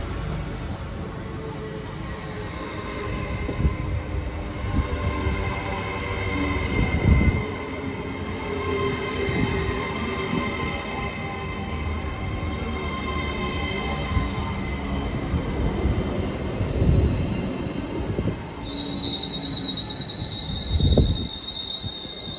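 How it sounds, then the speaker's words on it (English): A ScotRail passenger service from Cowdenbeath pulls into Haymarket station: a steady rolling rumble of wheels on track with rhythmic clunks over rail joints, and a high brake squeal near the end, heard from the platform with no talking. "arriving in over here is the 1532 ScotRail service from Cowdenbeath to Edinburgh Waverley."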